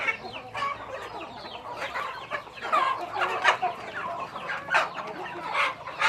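Several chickens cluck and chatter close by in an irregular, overlapping stream of short calls, with no talking.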